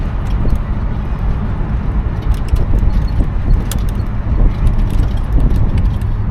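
A 1972 Buick LeSabre drives along the road, heard from inside as a loud, steady rumble of engine and tyre noise with faint light rattles throughout.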